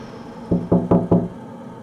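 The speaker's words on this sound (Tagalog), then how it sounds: "May kumatok na naman." Four firm knocks on a door in an even, quick rhythm, close and fairly loud, heard alone against a quiet room.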